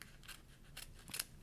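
Scissors snip close around stamped paper pieces for card making, three or four quick crisp cuts in a short run, near and fairly quiet.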